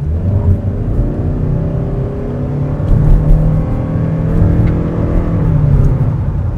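A 2025 Toyota Crown Signia XLE accelerates from inside the cabin, its engine note climbing through a rising whir with a shift and renewed pull, loud and steady with no talking.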